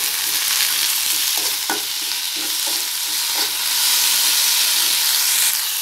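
Kuppaimeni leaves wilt in a pan with salt, making a continuous close sizzle and hiss, with a few scraping stirs of a spoon against the pan.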